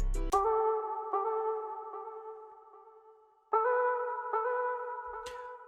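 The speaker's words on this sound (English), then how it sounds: "Kind of like a vocal thing I just recorded." Recorded vocal sample in an FL Studio Lil Baby-style uptempo beat: a sustained, pitched, echoing tone that holds and slowly fades, then returns louder at a higher pitch, alone without drums.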